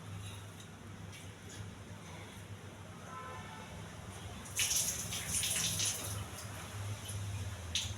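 Soaked moong lentils washed in water by hand, a close, continuous swishing and sloshing that turns louder, with splashing bursts, in the second half.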